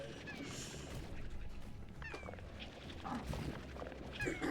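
A tabby slime in the video game Slime Rancher meows in short, faint cat-like calls over a low rumbling game backdrop, with a few scattered clicks and thuds.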